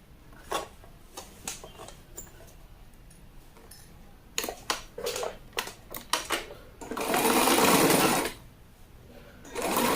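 A sewing machine stitches a seam on a six-piece skirt in close, loud bursts of rapid mechanical clatter, with short taps and pauses, then a longer sustained run near the end.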